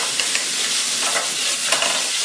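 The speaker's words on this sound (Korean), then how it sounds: "후추 살살 넣어주시고요. 볶아주세요." Vegetables sizzle steadily in a hot pan as salt and pepper go in for a stir-fry filling, with faint stirring scrapes and crackles over a constant frying hiss.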